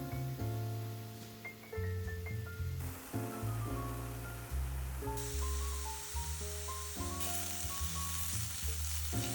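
Mushrooms sauté in butter with shallot and garlic, a faint continuous sizzle running under prominent background music and rising and falling across the passage.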